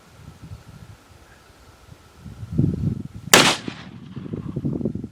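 One loud, sharp rifle shot from a Marlin 45-70 Guide Gun cracks out at close range, with quiet handling and rustling noises before and after the blast.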